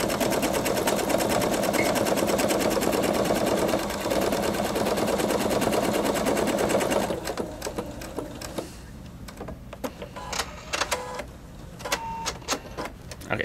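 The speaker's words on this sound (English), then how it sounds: "I can stitch a little bit out so you can see what it looks like when we stitch this out normally" For about seven seconds a Pfaff Creative 3.0 sewing machine whirs steadily, stitching out a repeating pattern at close range, then stops, leaving faint clicks and handling sounds.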